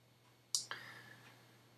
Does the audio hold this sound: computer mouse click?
yes